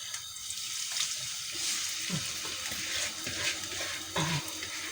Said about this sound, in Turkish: Şimdi bunun içine bunu kapıp dökeceğim, boşaltacağım